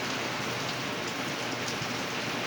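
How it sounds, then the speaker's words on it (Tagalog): Rain drums on a roof with no ceiling beneath it, a dense, even hiss of countless drops heard from directly below, steady and unbroken with no voices. "ang patak sa bubong ay pakinig na pakinig, lalo na pag malakas ang ulan."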